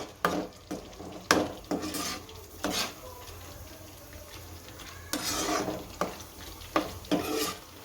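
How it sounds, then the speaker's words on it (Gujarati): Food sautéing in oil, a quiet sizzle broken by repeated scraping strokes of a spoon against the pan. "અને તેલ છૂટું પડે ત્યાં સુધી સાતળવા દેવું."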